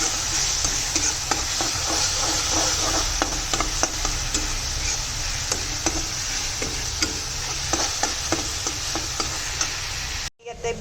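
Spices with turmeric fry in a pan for an Assamese fish curry, a close, steady sizzle dotted with crackles and stirring clicks that continues for about ten seconds before stopping abruptly.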